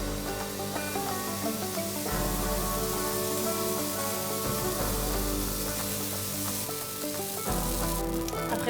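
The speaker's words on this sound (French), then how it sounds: "on a juste à verser la pâte à pancakes au centre de la poêle" Pancake batter hitting a hot oiled frying pan, giving a steady, close sizzle that flares louder as the batter spreads and keeps hissing throughout.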